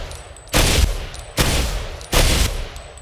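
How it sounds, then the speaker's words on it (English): An AN-49 rifle fires in the video game Ghost Recon Phantoms with a burst mod, producing three loud, dense bursts of gunfire evenly spaced less than a second apart, with no talking. "Oh, we have like AN-49 burst, 2 shots"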